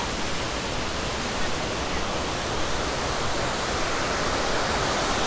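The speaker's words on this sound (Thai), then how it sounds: "น้ำตกแม่ยะ" Mae Ya waterfall in Chiang Mai roars as a dense, unbroken wall of rushing water, loud and steady throughout with no voices.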